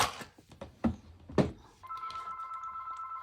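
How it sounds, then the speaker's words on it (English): A telephone ringing indoors as a steady electronic warble that starts partway through, following a series of knocks and handling thumps from fabric-covering work on a binder journal cover. "Oh, ignore that phone."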